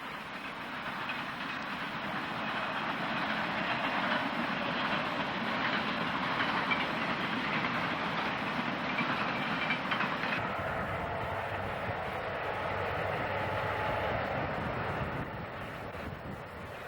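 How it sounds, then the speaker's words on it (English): A long freight train hauled by five or six locomotives rolls past close by, its heavy steady rumble and clattering wheels filling the air while wind buffets the microphone, the roar easing slightly toward the end. "Seems like most of the freight trains out here will have 5 or 6 locomotives attached."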